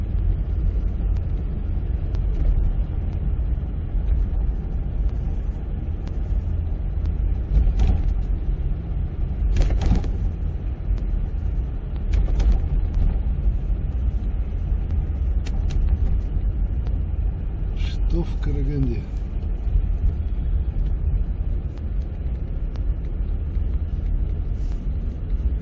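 Steady low engine and road rumble from inside a car driving through city traffic in Karaganda, continuous and fairly loud with occasional brief knocks and passing noises, no talking.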